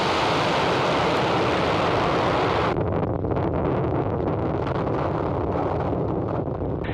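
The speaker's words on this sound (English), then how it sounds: "And liftoff of Falcon 9." A SpaceX Falcon 9 rocket lifting off from Vandenberg produces a dense, continuous broadband roar, loud and unbroken, with the high end dropping away partway through as the rumble carries on.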